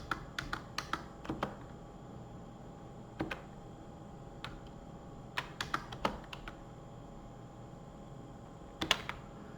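Scattered clicks of typing on a computer keyboard come in short irregular bursts with pauses between them, close and quiet, with no talk over them.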